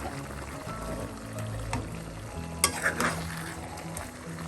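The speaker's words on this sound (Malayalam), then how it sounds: "ഒരു അഞ്ച് മിനിറ്റ് ഹൈ ഫ്ലെയിമിലൊന്ന് വേവിക്കാം അതൊക്കെ അടക്കൊന്ന് തുറക്കാം എല്ലാം ഒന്ന് ഇളക്കി കൊടുക്കാം" Kerala Malabar-style chicken curry sizzles in a pan over a high flame while being stirred, a constant close frying hiss broken by a few sharp spoon-on-pan scrapes and clinks.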